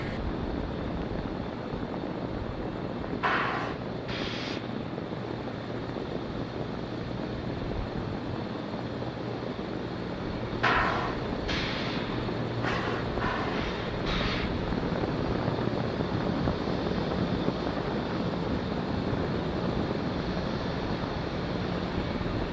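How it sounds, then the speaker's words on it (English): Liquid-oxygen tank venting on a SpaceX Falcon 9 rocket at the launch pad before a Starlink launch: a steady, broad roaring hiss that holds constant throughout, with a few brief fainter higher hisses mixed in. "LOX tank venting out to maintain pressure inside of the tanks"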